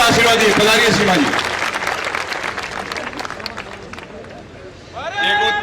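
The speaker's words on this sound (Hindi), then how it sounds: "आपसे मैं अपेक्षा करता हूं कि आप सीमा जी को एक बार जोरदार तालियों से आशीर्वाद दें" Loud crowd applause at a welcoming ceremony in Mumbai, dense and sustained, with voices and babble mixed in and a rise in loudness near the end.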